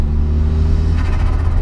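A Vauxhall Astra sleeper fitted with a Saab engine revs hard with a deep loud rumble close by, then the throttle lifts into a fluttering burst of turbo chatter, with no one talking.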